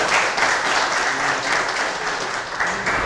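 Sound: audience applause at TuxCon conference

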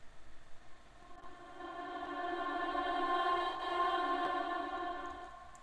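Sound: vocal with exaggerated reverb, recorded and reversed

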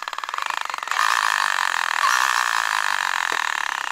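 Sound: RC truck motor and gear noise under throttle

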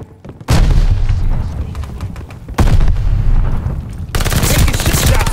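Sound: frag grenade explosion in video game Call of Duty: Vanguard

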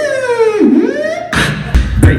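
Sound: beatboxer imitating a horn

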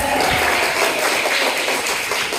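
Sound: children clapping, applause

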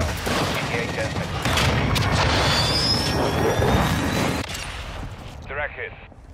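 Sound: missile strike from a Dragon aircraft in Call of Duty: Modern Warfare II (video game)

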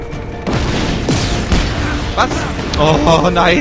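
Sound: chain-reaction explosions in the video game Just Cause 3

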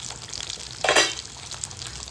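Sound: stirring curry cooking in a pot

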